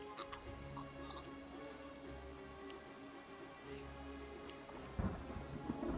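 Rain pours steadily under a low rumble of thunder in the Pathfinder Kingmaker video game, with a sharper crack near the end, faint and without voices.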